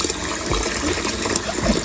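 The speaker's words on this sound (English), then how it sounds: "You're gonna fill it with water" Water gushing and splashing into a bowl of grated beans being prepared for moi moi, a steady close pour with a low gurgle and no voices.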